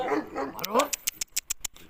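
A Karabash dog lets out a close, whining bark-like call, followed by a quick run of sharp, rhythmic clicks.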